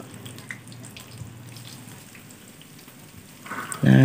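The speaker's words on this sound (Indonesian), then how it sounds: "Digorengnya jangan terlalu kering ya, sampai tahunya berkulit saja." Tofu pieces for tahu aci fry in hot oil with a fine, rain-like crackle that swells into a louder, busier sputter at the very end.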